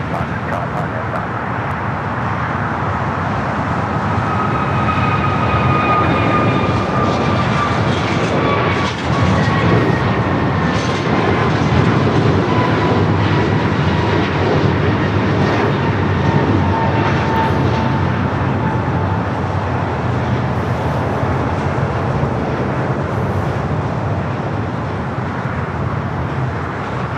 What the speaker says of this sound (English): 787-9 Dreamliner, almost running an hour late